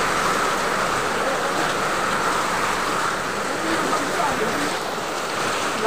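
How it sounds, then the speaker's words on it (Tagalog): Heavy downpour during a storm, a dense, continuous hiss of rain pounding down at steady high volume from start to finish, with no break in the rush. "Lakas ng ulan."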